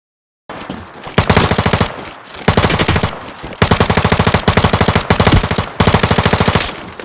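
Rapid automatic gunfire in the shooter game Lost Light, loud and close, in four long bursts of evenly spaced shots separated by short pauses.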